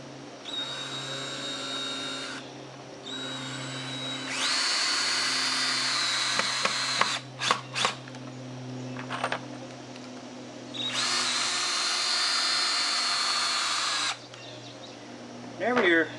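Several loud bursts of a battery drill whirring while building a sawhorse, each lasting a couple of seconds with short pauses between, close by, with a few knocks in the gaps.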